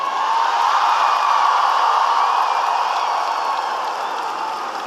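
A large crowd at a Kamala Harris rally in North Carolina cheers and applauds in a steady, dense wash of clapping and shouts that fades slightly near the end.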